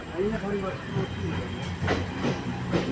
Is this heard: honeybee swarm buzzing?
no